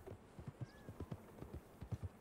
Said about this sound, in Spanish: Aunque se escuche un caballo.